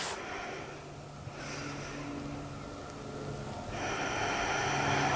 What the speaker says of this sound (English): Couple of Ujjayi breaths.